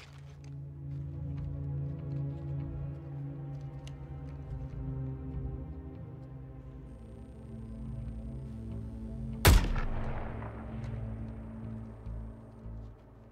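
A single sharp gunshot from a sniper rifle in a Suicide Squad: Kill the Justice League game cinematic, one loud crack with a short ring-out over a steady bed of background music and ambience.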